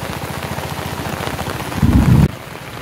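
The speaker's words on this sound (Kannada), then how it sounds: "ಜೋರು ಮಳೆ ಸರಿಯಾಗಿ ಮಳೆ ಬರ್ತಾ ಇದೆ ಇವಾಗ" Heavy monsoon rain pours down in a dense, continuous hiss over a village, loud and close, with a deeper drumming surge near the end before easing back.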